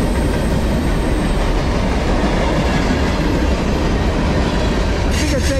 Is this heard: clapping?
no